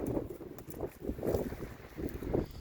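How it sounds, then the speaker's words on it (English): Steady wind buffeting the microphone, low rumbling gusts rising and falling throughout with no speech. "sorry about the wind."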